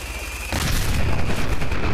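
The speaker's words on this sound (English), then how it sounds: "minigun with a MIRV launcher in it" A Fallout 4 minigun fitted with a MIRV launcher fires, and a loud, dense burst of overlapping explosions suddenly erupts and roars on continuously.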